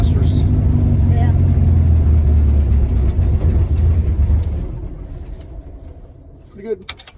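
A Volkswagen Beetle with a 1600 engine drones loudly on a road drive, a steady buzzing rumble that fades away over the last few seconds, with a brief clatter near the end.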